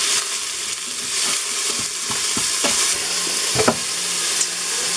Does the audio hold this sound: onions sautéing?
yes